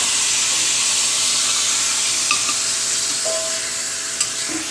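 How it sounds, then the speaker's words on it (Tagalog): Salmon fries in a pan with garlic and sauce, giving a loud, constant close sizzle and steamy hiss with a few faint clinks and stirring sounds, and no voices. "Lagyan natin ng bawang para yung lasa ng bawang ay didikit sa ating salmon."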